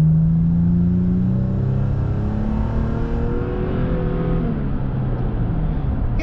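2022 Toyota Tacoma Trail 4x4 with a TRD exhaust, its engine revving loudly up through the gears in a rising, throaty drone that climbs in pitch, close by and with no talk over it.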